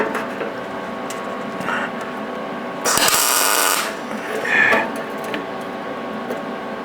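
A brief burst of crackling arc from a tack weld on a fixture table, lasting under a second and rising above a steady background hum, with a faint clank soon after.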